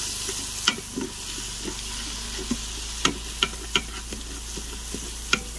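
Onions sizzle steadily in an Instant Pot on sauté while deglazing, a constant close frying hiss broken by a few sharp spoon clicks and scrapes against the inner pot, with no voices.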